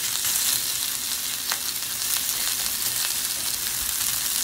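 Dirty rice cooking in a pan gives off a continuous, fairly loud frying sizzle with scattered crackles and pops, heard alone without any talking.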